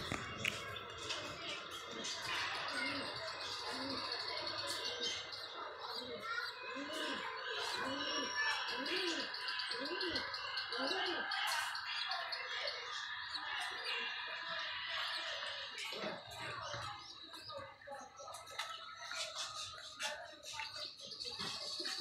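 Pigeons cooing in a rooftop or loft setting, repeated soft throaty coos in a rhythmic series with scattered chirps and background noise, and people talking faintly at times.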